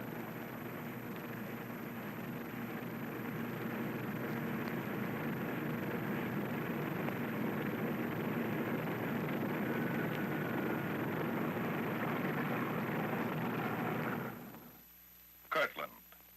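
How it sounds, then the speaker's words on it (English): Bomber aircraft engines drone steadily and loudly while the plane taxis toward takeoff under guard, a dense continuous roar that cuts off abruptly near the end, followed by a couple of brief knocks. "The bomber ready, it moves off to wait its takeoff time under double guard."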